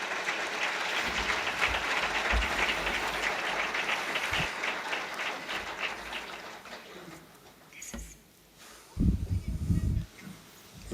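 Broad, hissing applause from a conference audience closes a panel debate. It runs strongly for several seconds, then thins and fades, and a few louder thumps and handling noises follow.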